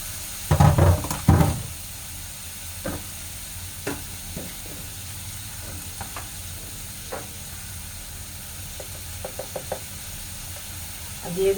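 Frozen chopped carrots tipped into a hot pan land with a loud clattering burst, then a low steady sizzle continues with occasional knocks of a spoon stirring, close up.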